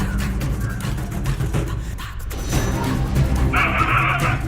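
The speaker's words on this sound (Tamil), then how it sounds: "ஓட ஓட விரட்டி கடித்த தெருநாய்." A street dog barks during an attack in which it chased and bit several people in Alappuzha, with sharp barks and yips over a busy, noisy background and a brief crash-like burst near the end.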